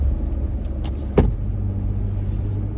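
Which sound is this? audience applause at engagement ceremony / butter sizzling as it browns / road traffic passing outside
road traffic passing outside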